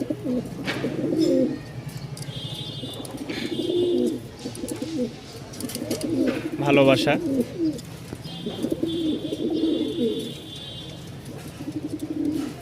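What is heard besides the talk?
pigeons cooing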